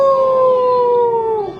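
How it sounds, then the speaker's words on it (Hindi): A dog gives a single loud, drawn-out howl that stays close and steady, then drops in pitch as it fades at the end. No barking is heard. "फिर कुत्ते भौंके,"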